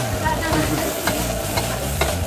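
Yang Chow fried rice with egg being stirred in a hot pan at a Baclaran food stall, sizzling steadily with scraping strokes of the utensil and a few sharper clinks, voices faintly in the background.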